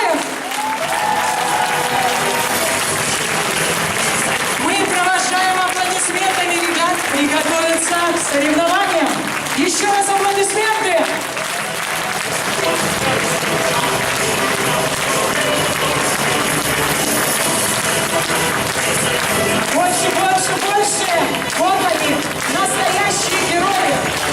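Audience applause for the participants of the Games of Heroes event in Kharkiv, a loud, dense, sustained clapping from a large crowd that runs throughout, while an announcer's amplified voice speaks over it.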